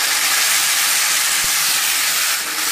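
Water poured into a hot pan of sugar and oyster sauce for an Indonesian stir-fry of salted fish and jengkol, giving a loud, steady steamy hiss that fills the whole moment.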